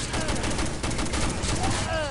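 A mounted tripod machine gun firing in a competitive online shooter match, a dense, loud burst of rapid gunfire filling the whole moment amid other battle noise.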